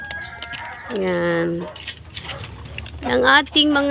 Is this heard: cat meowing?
no